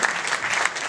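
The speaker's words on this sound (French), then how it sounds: "Je vais les applaudir en même temps" Brief audience applause for guests at a business school event, a dense steady wash of many hands clapping at moderate distance with a few sharper claps poking through.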